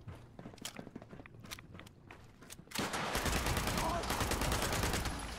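A gun fires in Fallout 76, first as scattered single shots between footsteps, then as a loud, continuous stream of rapid gunfire that fills the last few seconds.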